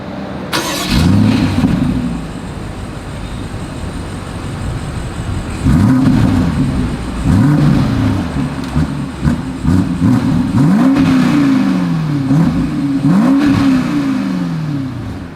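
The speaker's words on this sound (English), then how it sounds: "As always, here is that exhaust clip." A 2023 BMW X5 engine starts up and revs repeatedly through a deep dual exhaust, several rising and falling vroom pulses, loud and close, with no talking.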